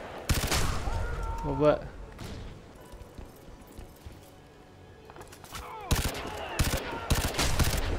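Three-round burst rifle fire in the video game Crysis 3 multiplayer comes as sharp clustered cracks, a burst near the start and a rapid string of shots toward the end, with a quieter lull between and a brief spoken comment.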